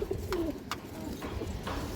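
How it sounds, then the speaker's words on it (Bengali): A male Rampuri Pakistani highflyer pigeon coos in low, repeated throaty rolls, close by, with a few brighter bird chirps scattered through and steady background noise. "পাকিস্তানি হাইফ্লার একটা রামপুরি নর কবুতর"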